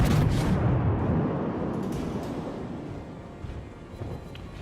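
Booming salvo from the big guns of HMS Warspite, a battleship in World of Warships, opening with a heavy blast and rolling into a long, dense rumble that slowly fades, with smaller bursts near the end.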